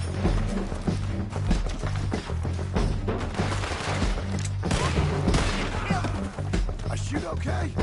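Gunfire from Red Dead Redemption 2, dense overlapping shots and booms under a steady musical score, continuous and loud throughout.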